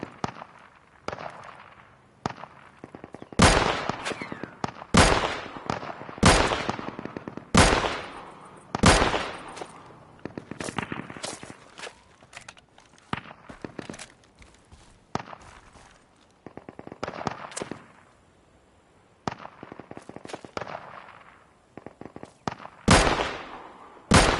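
Gunfire in the survival shooter Deadside during a long-range fight in the dark, with loud sharp shots cracking in irregular bursts and singles, some close together, spread across the whole stretch without talk.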